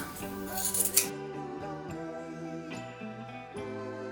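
Scissors snip off excess material while a handmade Mother's Day gift is being made, giving several crisp, close cuts in quick succession with a light metallic ring and no voices.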